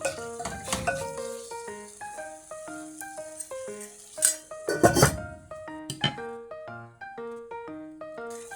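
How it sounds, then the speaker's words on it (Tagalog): Seasoned chicken is stirred in a pot with a spoon, giving light metallic clinks and scrapes, then a lid clatters on, over soft background music. "Halo-haloin lang natin at ating tatakpan ulit."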